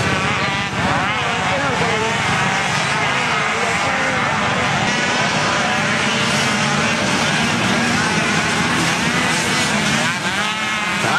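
Mini quad ATVs in the 90 cc CVT youth class launch at the start of an ATVA nationals race at Sunset Ridge, a loud, continuous swarm of revving engines with an announcer talking over it.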